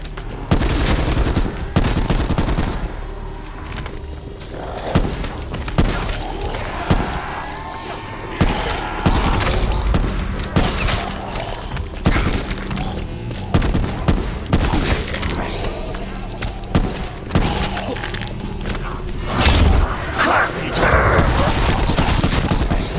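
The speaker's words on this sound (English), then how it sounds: "Next, we have the basic Call of Duty ray gun." Basic ray gun from Call of Duty firing in a video game, a dense run of sharp energy shots and bursts repeating throughout, loud and busy with other game sounds layered on top.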